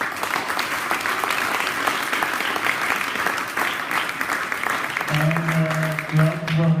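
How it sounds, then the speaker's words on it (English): Warm applause from the audience for the jury at a hackathon prize handover in Berlin, dense and continuous, with talking and a low hum rising over it toward the end. "Big round of applause for the jury."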